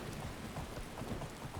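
Steady rain pours in Skyrim, a dense continuous hiss with a low rumble underneath, even and unbroken across the short stretch with no voices.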